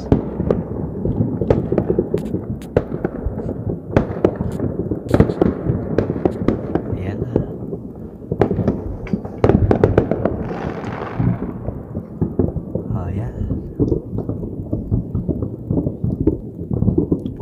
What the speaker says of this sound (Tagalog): Hindi masyadong kita yung fireworks dito sa amin